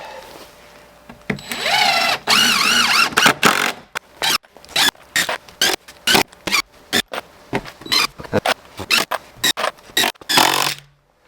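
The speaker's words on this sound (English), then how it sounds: "So now I'm just going to screw. Deck screws it is." A cordless drill drives deck screws into wood at a cabin, starting with a long whining run and then short repeated bursts of whirring and squealing, close and alone without speech.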